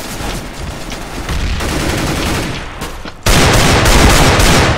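Desert Eagle pistol shots in Counter-Strike: Global Offensive, loud dense gunfire with overlapping shots and a sharp jump to an even heavier burst near the end.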